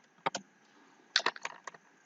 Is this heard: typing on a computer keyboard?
yes